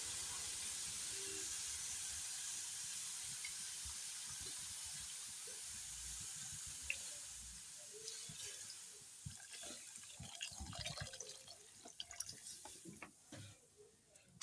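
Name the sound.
dal and squash curry boiling in water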